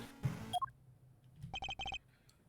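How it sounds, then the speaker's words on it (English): A phone rings in the Ace Attorney Investigations 2 video game as a short electronic ringtone. It gives a couple of rising tones, then a quick run of repeated bright beeps at a moderate level, with no talk over it. "Mr. Edgeworth, that's Judge Gavel's phone."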